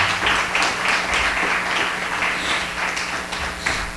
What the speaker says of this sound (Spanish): denle al Señor un aplauso de alabanza